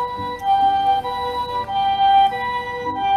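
A wailing ambulance siren in Japan with steady tonal harmonics sounds continuously over road noise, moderately loud and fairly close.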